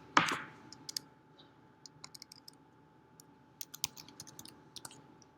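A user ID and password being typed on a computer keyboard, one sharper opening clack followed by scattered quiet key taps in short irregular bursts, close and alone without speech.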